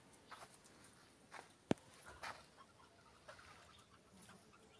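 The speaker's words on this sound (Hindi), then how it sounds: "ये गंजी मुर्गी है" A naked-neck hen on a farm gives a few faint, scattered clucks against quiet background noise, with one sharper peck-like click and some soft shuffling sounds nearby.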